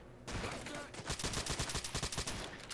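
Rapid bursts of gunfire from a Fallout New Vegas firefight with Powder Gangers at night, dense repeated shots running nearly continuously and loud after a brief quieter opening.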